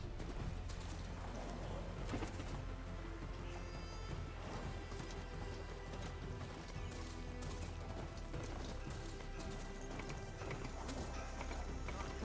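Mount's hooves clip-clopping in the Horizon Forbidden West video game, a steady rhythmic trot under a dense wash of game ambience and music, with a voice talking over it.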